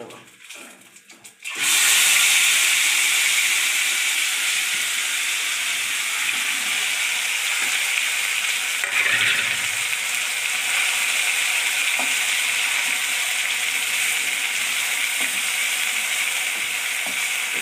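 Cinnamon, cloves, cardamom, bay leaves and cumin for palak paneer hit hot oil and erupt into a loud, sustained sizzle and spatter that continues steadily after a brief quieter start, with no talking.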